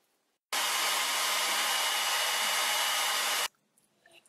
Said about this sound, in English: I will speed up the drying with a heat gun